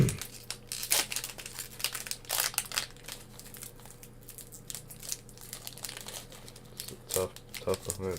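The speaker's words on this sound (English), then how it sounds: "these packs are so hard to open up, and I hate opening up that way" Foil wrapper of a One Piece trading card pack crinkling and tearing as it is fought open, close and intermittent, with bursts of crackle over a steady low hum.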